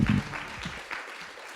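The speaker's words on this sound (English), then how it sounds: "Can we have one more round of applause for our Vice Chancellor?" Audience applause at a university awards ceremony honouring the Vice Chancellor, a loud burst of clapping at the start that quickly thins into scattered, fading claps.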